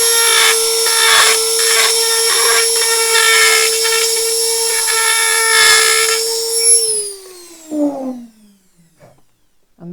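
A high-pitched power tool whines steadily as it roughens the surface of a Boba Fett prop, with scraping grinds pulsing along through the run. Near the end the motor winds down and falls silent.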